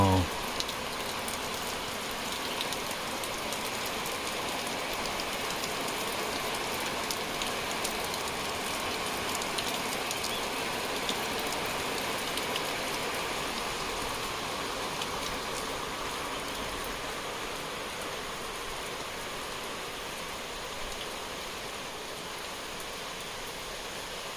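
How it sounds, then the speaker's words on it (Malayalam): Steady, even hiss of rain falling in the forest of Pambadum Shola National Park, Vattavada, for the whole stretch, broad and continuous without breaks, fairly close and moderately loud. "മഴ."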